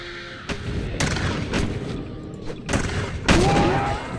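Launcher explosions in the Roblox game The Battle Bricks, a series of sharp booming blasts about every half second, some heavier than others, over a steady background rumble.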